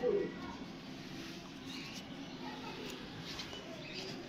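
Pigeons coo softly with low, throaty calls against a quiet background, with a faint fluttering coo at the start and occasional light chirps.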